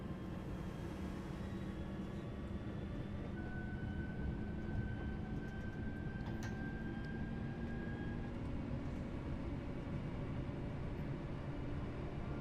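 In Train Sim World 3, on the Birmingham Cross City line's Redditch branch, a train passes with a constant low rumble and steady rolling roar, plus a thin sustained tone, all fairly faint and even throughout.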